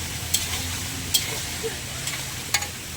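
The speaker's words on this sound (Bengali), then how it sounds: "তারপরে ফুলকপির ডাঁটাগুলো দিয়ে দিলাম, এটাকে একটু ভালো করে কষে নেব।" Cauliflower stalks and potato fry in oil with nigella seeds and green chilli, a steady close sizzle broken by a few sharp scrapes of a spatula stirring the pan.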